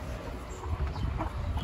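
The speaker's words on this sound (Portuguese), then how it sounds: "Vou pegar a galinha, Zé." A chicken gives short, agitated clucks while being caught on a small farm, close and fairly faint amid rustling and background noise.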